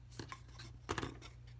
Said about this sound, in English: I'm just going to use my snips to kind of trim that up.